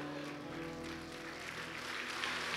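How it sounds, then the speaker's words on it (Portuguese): A church congregation applauds at a Portuguese-language prophetic conference service, a steady, faint wash of many hands clapping, with some tonal hum underneath. "Pode aplaudir o Senhor."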